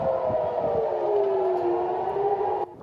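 Air raid siren wailing over Tel Aviv and Jerusalem, a single sustained tone slowly sliding downward, loud and steady before cutting off abruptly at the end.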